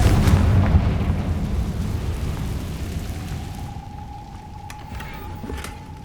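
A Confringo fire spell explodes in Hogwarts Legacy on PlayStation 5, a loud, deep, rumbling boom that slowly fades over several seconds, with a faint steady tone and light debris clatter in the tail.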